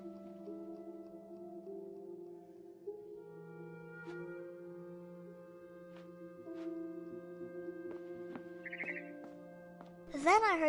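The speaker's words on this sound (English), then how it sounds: "Then I heard chirping outside my window." A barn swallow chirps outside a window in a PS4 video game: a short, loud flurry of bright chirps at the very end, after a long sustained tonal musical background.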